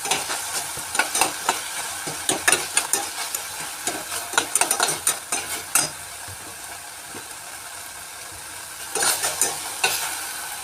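Marinated chicken sizzles in a pan while a spatula scrapes and stirs it in quick bursts, then the stirring stops and only a steady frying hiss remains before another flurry of stirring.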